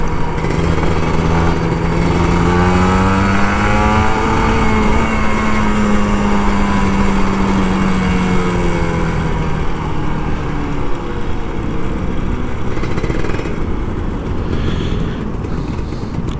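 An older Kawasaki Ninja RR 150 two-stroke engine runs close by with a buzzy, high-pitched drone, its pitch rising and falling as the throttle is revved and eased off, with no voices.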